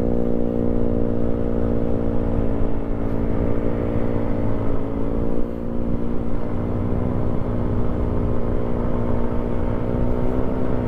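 Motorcycle fitted with a loud JVT exhaust pipe idling and revving at a checkpoint, a steady droning engine note with slight rises in pitch throughout, close and fairly loud, with no talking.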